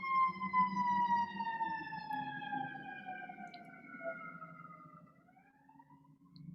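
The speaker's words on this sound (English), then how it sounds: "Lots of sirens this morning." Emergency vehicle sirens wail outdoors at moderate distance, a steady tone slowly falling in pitch before rising again near the end, with no one talking.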